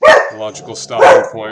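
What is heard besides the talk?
dog barking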